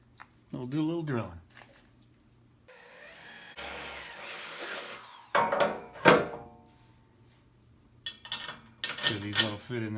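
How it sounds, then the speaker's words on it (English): Power drill boring into a vehicle bumper while mounting LED reverse light pods, a couple of short whirring bursts near the middle, with people talking before and after. "We'll do a little drilling."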